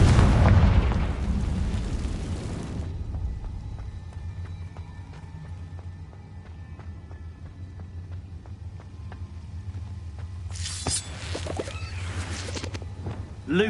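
A spell blast in the Hogwarts Legacy video game, a loud booming explosion at the start that rumbles and fades over a few seconds, followed by a low ambient drone and another burst of crackling impact near the end.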